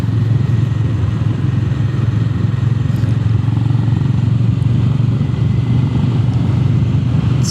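A Honda GB 350 S motorcycle engine drones steadily and loudly while being ridden, a constant mid-low hum with wind noise and no pauses.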